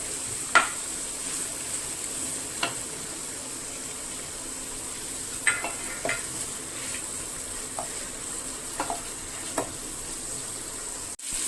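Fish pieces stirred into a hot pan with pepper, giving a soft, steady frying hiss broken by occasional spatula taps and scrapes.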